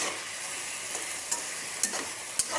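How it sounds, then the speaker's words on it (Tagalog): Beef sautéing in its own rendered fat in a covered pot, a soft continuous sizzle with a few sharp pops and clicks, moderately close and without talk. "unti-unti na po siyang nagigisa sa sarili niyang tamika o mantika"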